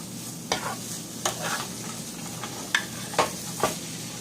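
Pork with chili powder and onion is stirred in a hot frying pan, a steady sizzle broken by about five distinct scraping spoon strokes, close and without speech.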